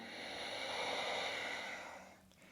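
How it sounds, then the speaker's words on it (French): A single long, soft exhale through the nose during yoga breathing, close and quiet, swelling gently for about two seconds before fading out. "Expirez tout par le nez."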